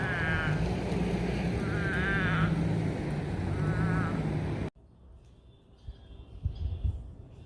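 Frogs give trilling croaks in three bursts over a loud, steady traffic rumble. Then the sound cuts abruptly to a quieter scene with faint handling noises.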